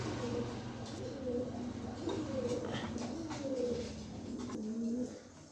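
A pair of large red checker racing pigeons coos in repeated soft, throaty phrases close by, steady low calls rising and falling over about five seconds with faint background noise.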